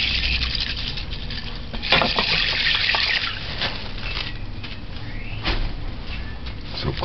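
Rice being washed and rinsed in water in a pot for Jamaican rice and peas, with continuous close swishing, stirring and sloshing and occasional knocks of grains and hands against the pot, no talking.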